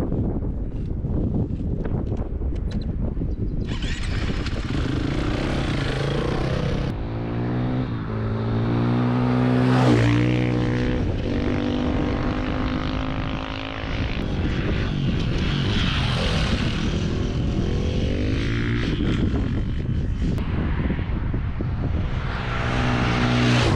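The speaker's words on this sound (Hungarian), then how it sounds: "Motorra fogok pattanni, és kipróbálom, hogy menet közben" Motorcycle ridden on a road test, engine droning and shifting pitch as it accelerates and changes gear, under heavy rushing wind noise across the microphone throughout.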